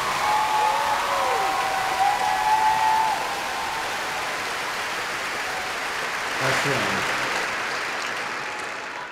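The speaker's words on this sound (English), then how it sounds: "One more round of applause" A high school graduation audience applauds steadily, a broad wash of clapping with faint whistles early on that thins slightly toward the end.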